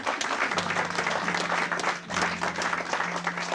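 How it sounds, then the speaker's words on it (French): Loud, steady crowd applause for Ricardo, continuous dense clapping with a low sustained musical tone underneath and a brief dip midway. "Applaudi pour Ricardo pour moi."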